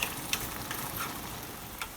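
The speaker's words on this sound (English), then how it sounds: "I add about a cup of water to the pan and just let them bubble away now to soften" Onions cook in about a cup of water in a pan, giving a steady, moderately quiet bubbling hiss with a few faint ticks scattered through it.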